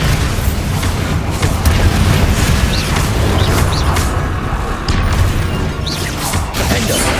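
A Bombarda spell explodes in the video game Hogwarts Legacy: a loud, sustained booming roar with a heavy low-end rumble and crackling debris that holds steady throughout.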